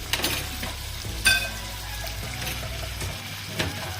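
Boiled chopped Irish potatoes go into a hot pan for meat pie filling, producing a steady close sizzle with a clatter as they land and faint stirring scrapes that follow.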